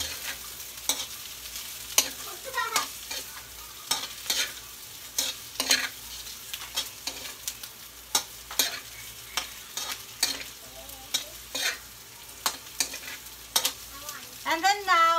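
Pork humba frying in a pan sizzles steadily while a utensil stirs it in frequent, irregular scrapes and clinks against the pan, close and fairly loud, with no talking.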